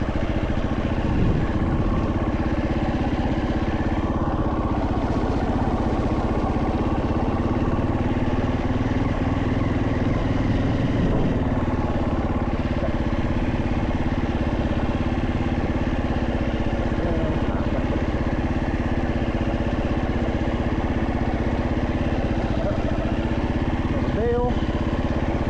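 A motorcycle runs continuously on a practice track as a novice rider prepares for a first race, its engine droning loud and close the whole time with the rider's voice talking over it.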